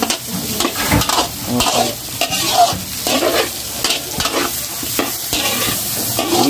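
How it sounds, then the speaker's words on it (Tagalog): Onion and garlic sauté in oil with dairy cream at a fiesta cook-up, with a steady close sizzle and frying hiss broken by repeated scraping stirs of a utensil in the pan, and one brief spoken word. "Igisa po natin ito dito."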